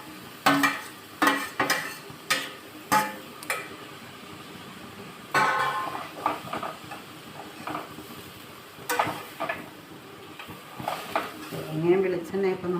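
Thazhuthama leaves fry in oil on low heat for thoran while a spoon stirs them: irregular close scraping and clinking strokes rise over a soft, quiet sizzle, with occasional pan knocks.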